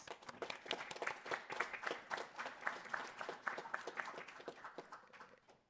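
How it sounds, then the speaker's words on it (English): A crowd at a city civic event gives a round of applause, many hands clapping in a dense, even burst for several seconds. It sounds faint and distant, fading out at the end. "Let's give them a round of applause, please."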